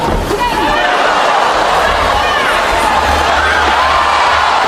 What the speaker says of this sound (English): Crowd's oohing and ahhing